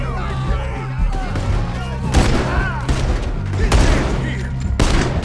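Rapid gunfire during a Red Dead Redemption 2 shootout, loud repeated cracking shots and booms scattered irregularly over a few seconds, close and punchy, with shouting voices and rumbling ambience mixed in.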